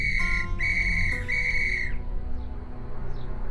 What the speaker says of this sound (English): she got into a terrible rage and blew 3 times upon her silver whistle